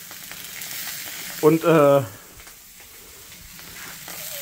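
Wagyu bratwurst sizzling in a frying pan beside a fresh Thüringer sausage, a steady soft crackle running throughout, briefly interrupted by a short spoken word near the start.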